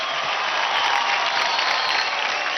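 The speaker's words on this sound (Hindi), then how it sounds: "जोरदार ताली हो जाए सारी दीवार के लिए" Loud, sustained applause from a studio audience at a televised dance competition show, steady and dense throughout with no gaps.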